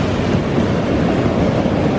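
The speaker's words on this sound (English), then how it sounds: "you hear the ocean, of course." Ocean waves wash steadily onto a sandy beach lined with palm trees, a constant broadband roar with no distinct breaks, fairly loud and close, with no voices.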